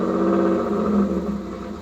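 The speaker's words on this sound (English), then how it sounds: "And this has kind of got a little bit of a rough idle." A 1991 Firebird with a 3.1 V6 idles roughly up close, a steady low engine drone with slight wavering and uneven pulsing throughout.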